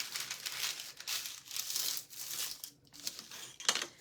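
Sheet of paper being folded over by hand at a craft table, a steady run of soft crinkling and rustling bursts with brief pauses, close and fairly quiet.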